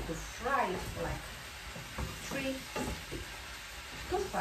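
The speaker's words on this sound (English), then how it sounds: "So the next step is to add peppers. And now we have to fry it" Peppers fry and sizzle in a pan for Hungarian lecsó with chicken, a steady hiss with stirring noises, while a person talks over it.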